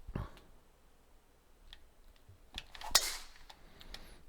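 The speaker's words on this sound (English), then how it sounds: "two good tee shots in a row" A tee shot in the golf game PGA 2K23 lands as one sharp crack near the middle, among a few faint ticks and clicks in a quiet background.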